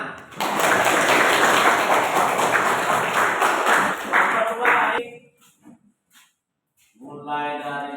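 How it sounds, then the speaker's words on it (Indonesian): A classroom of students claps hands together, a loud, dense burst of rapid claps lasting several seconds, fading to a few scattered taps and then silence before a voice begins speaking. "Tepuk tangan"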